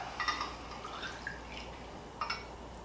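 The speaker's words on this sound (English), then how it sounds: "And pour into our glass." Bourbon whiskey, Rock Hill Farms, poured from a freshly uncorked bottle into a glass: faint, close trickling and dripping with a couple of small splashes, no talking.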